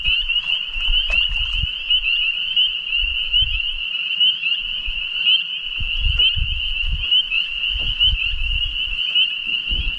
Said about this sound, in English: Absolutely love the spring peepers.